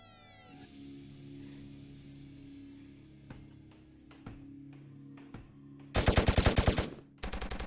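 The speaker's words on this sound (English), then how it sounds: "I got dual LMGs now." Dual light machine guns in a VRChat zombie survival game open up in two loud, rapid bursts near the end, preceded by scattered single sharp cracks over a quiet background with a meowing cat.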